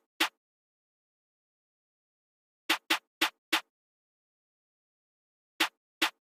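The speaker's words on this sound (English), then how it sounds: "I started off with this hi-hat snare sound." A drill beat's hi-hat snare sound: sharp, dry, isolated hits, one alone, then a quick group of four, then three more after a pause, each short and crisp against silence.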